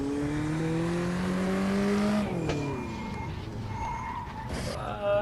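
Volvo 240 Turbo in a racing video game at Pau, engine droning loudly with a steady pitched whine that dips into a long skid and tire squeal, no voices over it.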